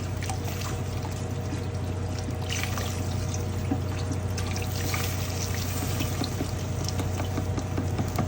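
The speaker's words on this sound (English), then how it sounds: "I'm going to incorporate beef stock right now. Just pour it in." Beef stock pours steadily into a stew pot over meat, a continuous close trickling splash that holds without a break, over a low background hum.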